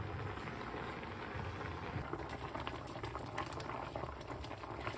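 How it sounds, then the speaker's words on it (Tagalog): A pot of rice bubbles at a steady rolling boil, a dense continuous hiss and gurgle of liquid close by with no voices. "yung kanin kumukulo"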